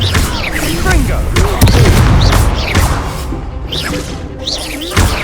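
Fiery spell blasts in Hogwarts Legacy combat burst out as loud booming thumps and whooshes, several overlapping impacts close up, mixed with game effects and a voice calling out spells.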